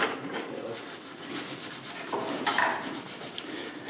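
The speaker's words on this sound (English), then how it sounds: "We'll use steel wool on one and the polishing wheel on the other one." Steel wool scrubbing motorcycle chrome in quick repeated back-and-forth strokes, a close, raspy scratching rhythm with no talking.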